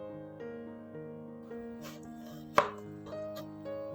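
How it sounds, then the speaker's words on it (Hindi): Knife cutting a deseeded vegetable into thick slices for pickle, a few soft cuts and one sharp knock on the board, heard over steady background music. "बिल्कुल इस तरह मोटा मोटा स्लाइस में काटेंगे।"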